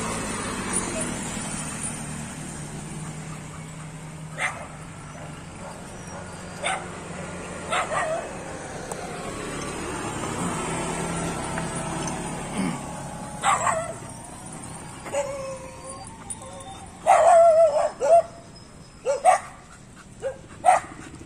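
A white dog barks in short, scattered bursts outdoors near a road, with traffic noise underneath and people talking at times; the barks grow louder and more frequent toward the end.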